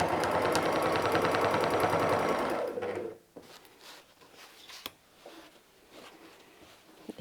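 A sewing machine quilts a patch onto a sweatshirt, running in a loud, steady mechanical whir for about three seconds, then stopping; after it, faint fabric shuffling and small clicks follow.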